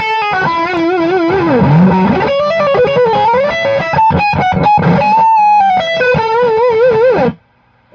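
A heavily distorted electric guitar through a Peavey 6505 MH tube amplifier plays sustained, overdriven rock notes and bends, loud and close, ending abruptly into silence.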